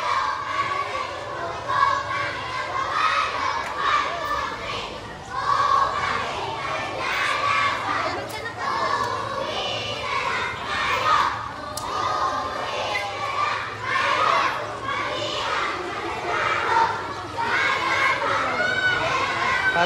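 Students at a school intramurals event shout together in a loud sustained group yell, a dense crowd roar with children's voices rising and falling for the whole stretch.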